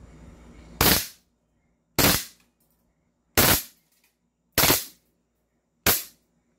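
An airsoft Glock 18 pistol fires five sharp, loud, cracking shots at uneven intervals of about one to one and a half seconds, each with a quick decay into silence and no talk between them.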